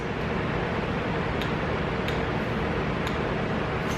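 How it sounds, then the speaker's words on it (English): A torque wrench ratchets on an engine bolt, giving a few sharp separate clicks spaced about a second apart over a steady broad shop noise, no talking. "You want to move it until you hear the wrench ratchet just like that."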